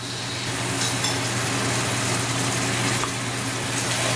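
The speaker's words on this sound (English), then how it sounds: "Cooking our tomato sauce with the tadka for 1 minute" Tomato sauce cooking with a tadka of spices for pork curry with chickpeas, a steady close hiss and sizzle over a low continuous hum, with no talk.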